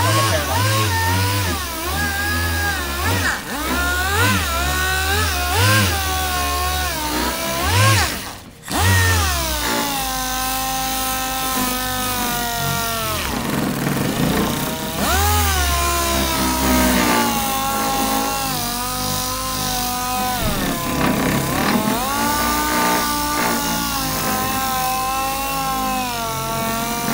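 Power sander dry-sanding a car body panel ahead of paint: a steady, loud motor whine whose pitch wavers throughout, with a brief dip near the eighth second.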